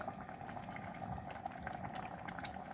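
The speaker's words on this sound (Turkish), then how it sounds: "Onun için zaten bu kadar kaynatıyoruz." Homemade tomato paste boils and thickens in a pot, giving a faint, steady bubbling with soft, irregular pops and no voices.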